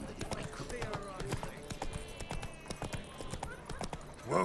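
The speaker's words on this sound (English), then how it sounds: "Whoa there, Roach." Horse hooves clip-clop at a steady walking pace in The Witcher 3 video game, close and clear, with game characters talking over the hoofbeats.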